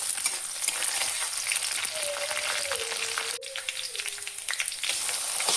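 Chopped onions sizzle in hot mustard oil in a wok, a steady close crackle and hiss that runs throughout, with a faint thin whine drifting above it midway.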